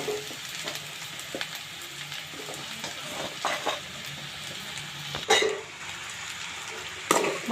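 Onion and curry leaf tempering sizzling in a pan while a spoon stirs it, a constant soft frying hiss broken by occasional scrapes and clinks against the pan, close by.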